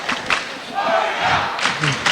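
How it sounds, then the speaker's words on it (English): Fight fans in Collingwood Town Hall chant "warrior" at a kickboxing bout, a loud rhythmic crowd chant in a packed hall. "Chants of warrior resound across the Collingwood Town Hall"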